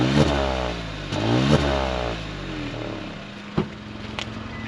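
A Hyundai i20 N Line revs hard with a growling exhaust, rising and falling in two or three sweeping bursts up close, then settling to a rough idle broken by a couple of sharp clacks.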